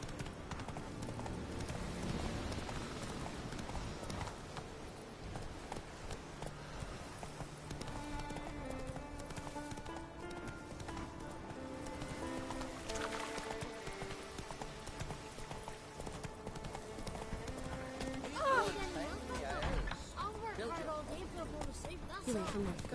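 Horse hooves clip-clopping steadily while being ridden, under continuous game music and a voice speaking over the top.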